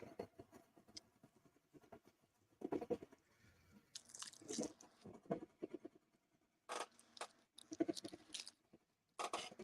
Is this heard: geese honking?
no